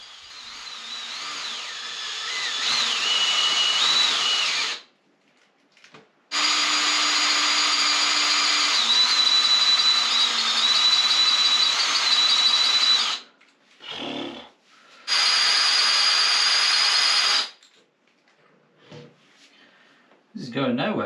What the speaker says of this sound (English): The combi drill wasn't really cutting it, so I reached for something a bit more powerful.